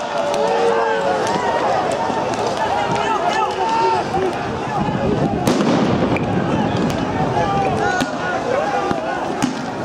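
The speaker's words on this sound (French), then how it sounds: "Oui, c'est des feux d'artifice." Fireworks and firecrackers go off at an antifascist street demonstration in Nantes in February 2017. The sharp pops and bangs are scattered through dense crowd noise and people talking.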